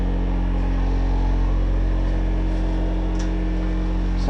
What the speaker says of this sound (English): Have a very noisy fan.